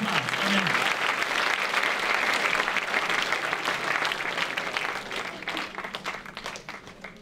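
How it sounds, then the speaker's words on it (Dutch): A church congregation breaks into sustained applause, dense and even at first and then gradually thinning out, with a speaking voice heard at the very start. "Geef ze een applaus als ze terug gaan aan het maat."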